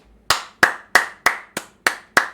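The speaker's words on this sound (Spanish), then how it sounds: "Un aplauso para el chat" Seven sharp, evenly spaced hand claps from a single person during a soccer-game livestream, close and crisp, each slap decaying quickly with brief silence between.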